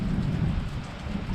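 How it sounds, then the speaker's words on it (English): Steady rain drums down during a thunderstorm while a deep, continuous rumble of thunder rolls underneath, close and loud for the whole moment with no voices. "Lots of thunder and lightning going on right there."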